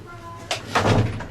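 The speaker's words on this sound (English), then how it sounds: "I'll just close my door here." A room door swings shut during a recorded finance lecture: a short nearby thud followed by a louder, fuller closing knock, with only faint room tone and no talk.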